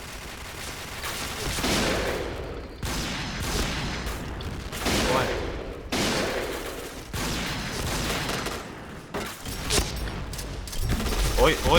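Rapid bursts of MPT-76 rifle fire in the shooter game Point Blank crackle in repeated volleys with short gaps, loud and close, while a voice exclaims over the shooting.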